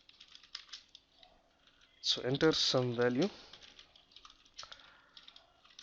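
Light clicking of typing on a computer keyboard while entering code, with scattered keystrokes before and after a short stretch of someone speaking.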